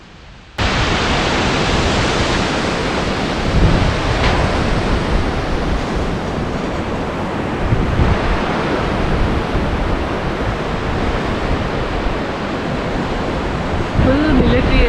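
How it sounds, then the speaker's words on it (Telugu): Mountain water cascades down the slopes along the route to Niti Pass near the Indo-Tibetan border, a steady, heavy roar of rushing water that fills the whole stretch, close and loud, with no pause. "కొండల మించి నీళ్లు కిందకి ప్రవహిస్తుంటే ఆ సౌండ్ చూడండి ఎంత ఉందో"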